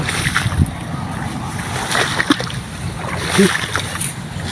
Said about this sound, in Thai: โอ้น้ำไหลน้ำไหล